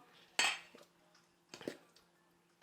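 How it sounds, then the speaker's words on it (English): Flour spooned into a measuring cup in a home kitchen: a few clinking metal-on-cup taps with soft scrapes, close and distinct, separated by silence. "I'm just going to gently dump it in with a spoon"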